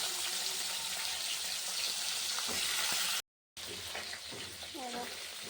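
Vegetables frying in hot oil with black cumin seeds, a steady, fairly loud broadband sizzle with a few stirring scrapes, briefly cut to silence partway through before the sizzling resumes.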